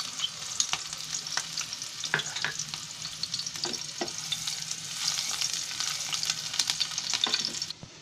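Chopped onion frying steadily in hot oil as the tempering for an egg masala curry, a continuous close crackle with occasional sharper pops and a few stirring scrapes, no voices.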